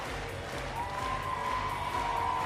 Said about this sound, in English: Eudora, this whole stadium is cheering for you.